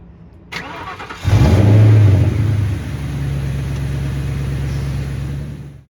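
A new edge Ford Mustang GT V8 cranks briefly, catches with a loud rev, then drops to a steady, rumbling idle after its starter motor relay is jumped, ending abruptly.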